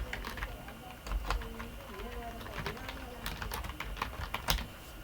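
Rapid, uneven keystrokes on a computer keyboard while typing into a web browser, a steady patter of clicks with a few louder strikes over a faint background hum.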